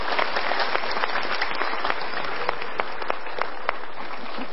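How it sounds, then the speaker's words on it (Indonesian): Steady, dense applause from a studio audience at a televised motivational talk show, continuous clapping at an even level throughout with no pause. "Untuk keinsafannya kita berikan tepuk tangan."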